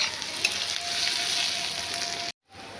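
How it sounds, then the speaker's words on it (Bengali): Onion frying in oil with bay leaf and dried chilli, a continuous close sizzle that cuts off abruptly near the end, no talking. "শুকনো লঙ্কা, পেঁয়াজটা দিয়ে ভাজছি"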